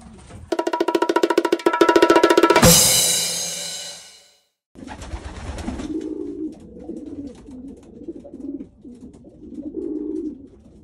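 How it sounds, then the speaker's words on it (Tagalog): Pigeons cooing nearby in low, soft, repeated murmurs across the latter half, preceded by a loud buzzing, rattling burst and a brief gap. "Yun nga mga kalapatids."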